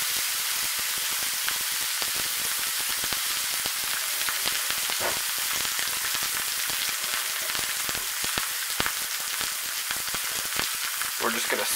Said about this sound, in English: that's what we wanna hear, that nice sizzle as soon as that meat hits the pan